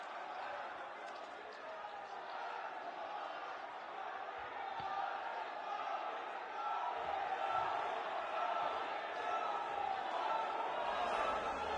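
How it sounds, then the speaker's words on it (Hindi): A large crowd at a public inauguration event in Begusarai, Bihar, applauds and roars steadily to welcome Prime Minister Narendra Modi. The broad, sustained noise continues under an announcer's voice. "जोरदार तालियों के साथ स्वागत करें हमारे माननीय प्रधानमंत्री जी का।"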